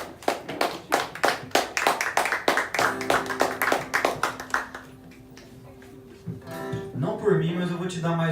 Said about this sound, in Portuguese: se você puder aplaudir o nome dele